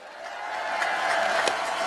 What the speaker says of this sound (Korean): 지금보다 훨씬 더 잘하라고 격려 박수 부탁드립니다.